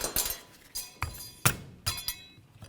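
Metal brake pad shims being pried off a caliper bracket on a 1998-2002 Honda Accord, giving several sharp metallic clinks and taps spaced irregularly, close and fairly quiet with no talking.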